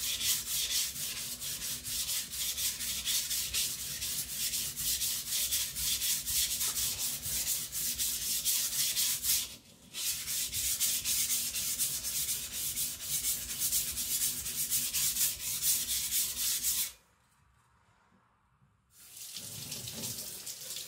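A custom Chinese cleaver is drawn across a wet sharpening stone in fast, steady rubbing strokes that continue almost without pause, with one brief break and a longer quiet gap near the end before the strokes resume.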